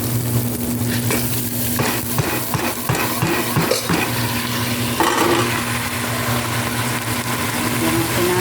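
Rice tipped into a hot frying pan with browned ingredients and stirred, a steady sizzle with scraping stir strokes under a constant low hum, close and alone.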